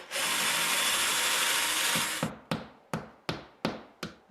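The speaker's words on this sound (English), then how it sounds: "Now I'm going to tap in the molly, a wall anchor." A molly wall anchor is tapped into a wall while hanging a mirror or picture: a steady whirring noise runs for about two seconds, then six sharp, evenly spaced hammer taps ring out close by, each decaying quickly.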